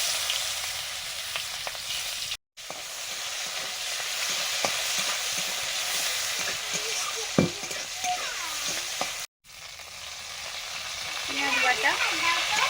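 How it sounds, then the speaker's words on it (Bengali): Dried chillies, nigella seeds and chopped onion fry in hot oil with a steady sizzle and occasional stirring scrapes, close and fairly loud, no speech over it. "শুকনো লঙ্কা, কালো জিরে, একটু পেঁয়াজ কুচি দিচ্ছি"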